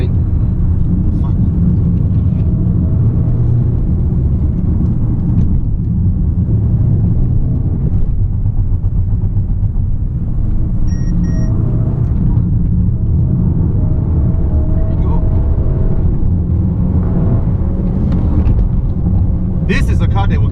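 A 2019 Mercedes-Benz A250 on the road, its engine and tyre rumble a steady, loud low drone throughout from inside the cabin, with a voice talking over it.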